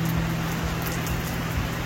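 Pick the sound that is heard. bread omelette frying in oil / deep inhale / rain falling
rain falling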